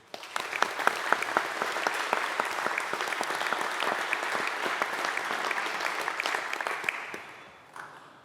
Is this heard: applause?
yes